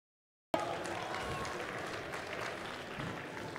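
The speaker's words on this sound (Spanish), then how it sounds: "Aplausos para el equipo número uno." Audience applause for a team at a community summit, starting abruptly and continuing as a dense, steady clapping for about three seconds, with some voices in the crowd.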